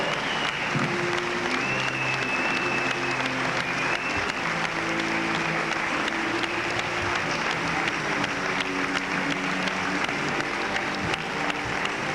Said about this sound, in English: give these athletes another round of applause